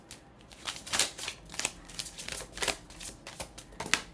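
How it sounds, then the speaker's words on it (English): A deck of tarot cards being shuffled, with soft, rapid riffling and flicking bursts repeating close up at a quiet level, with no one speaking. "They said stop shuffling right there."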